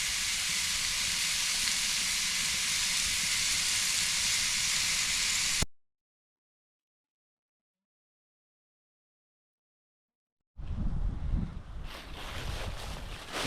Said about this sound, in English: Steaks are cooking.